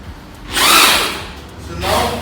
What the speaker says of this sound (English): So we're going to drill our holes.